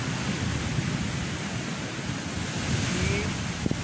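Sea surf washing onto the shore at dawn, a steady broadband wash of breaking waves with wind buffeting the microphone, continuous and fairly loud with no speech.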